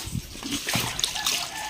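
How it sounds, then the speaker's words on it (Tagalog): Water thrown over pigs to bathe and cool them on a farm, a run of quick wet splashes and sloshes close by, irregular and fairly loud, with no speech. "ating sabuyan ng tubig"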